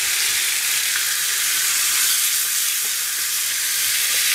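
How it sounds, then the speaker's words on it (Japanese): Bone-in chicken thigh, marinated with aromatic vegetables, sears in a hot pan with a steady, loud, broadband sizzle and hiss that holds even throughout, no voices. "焼き目を入れます"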